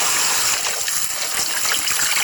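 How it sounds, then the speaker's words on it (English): Running tap water gushes steadily over strawberries being rinsed in a kitchen, a loud, continuous splashing wash with no talking. "I'm gonna give it one more rinse though."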